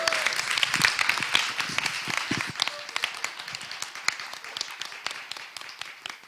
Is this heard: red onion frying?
no